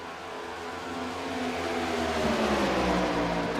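Stock race cars at Charlotte Motor Speedway roar past in a steady, loud engine drone that swells and builds toward the end, with layered engine tones from cars running close together on the straightaway.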